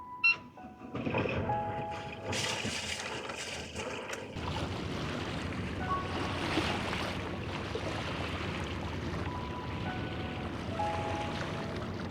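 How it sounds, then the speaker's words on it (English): Choppy, confused sea slapping against a sailing boat on a shakedown sail near Santa Cruz, a steady broadband wash of water and hull noise that stays fairly loud and continuous with no talking. "The waves are a bit confused, making us jump all over the place."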